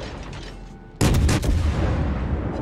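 The Cleveland light cruiser fires a loud salvo of its guns in World of Warships, a sudden sharp boom followed by a rumbling, ringing decay that fills the rest of the moment, with quieter ambient battle noise before the shot.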